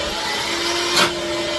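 A Boheung Cleon vacuum cleaner for a car wash runs steadily as it is tested, giving a constant whine with a steady tone and a brief surge of airflow about a second in.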